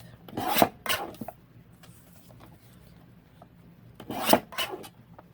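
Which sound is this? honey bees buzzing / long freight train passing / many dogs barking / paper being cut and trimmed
paper being cut and trimmed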